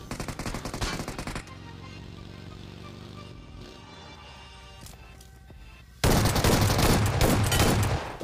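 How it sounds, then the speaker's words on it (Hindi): Shotgun fire in the mobile battle royale game PUBG Mobile: loud gunshot bursts at the start, a quieter stretch of humming game sound, then another heavy volley of shots toward the end. "भाई दो शॉटगन की बूम बूम में बंदा ढेर"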